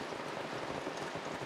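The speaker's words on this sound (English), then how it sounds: "Filling the jug." Rainwater pours into a kettle on a rainy day in Tasmania, a brief, steady splashing trickle heard close up with no voices.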